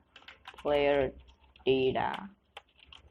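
C# code being typed on a computer keyboard, two quick bursts of close key clatter separated by a pause, then a few scattered clicks.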